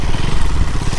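A motorcycle engine runs close and loud, with a rough, pulsing low rumble across the short stretch and no talk.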